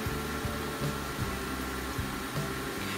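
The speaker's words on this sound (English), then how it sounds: "the little noise you hear is because I'm cooking this on my induction stovetop here" An induction stovetop hums while eggs cook on it, a steady low buzzing drone with faint regular pulsing, close and alone.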